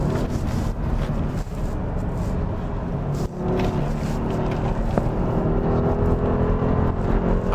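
A Mercedes-Benz GLS 580 4Matic SUV accelerating hard through a high-speed corner, heard as a steady engine and road roar under heavy wind rush.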